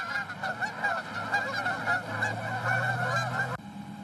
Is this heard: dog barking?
no